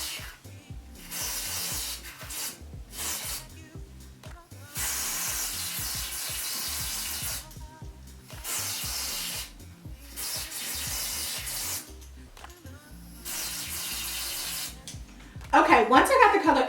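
Hair color sprayed onto baby locs in repeated short bursts of hissing mist, close and fairly loud, separated by brief pauses.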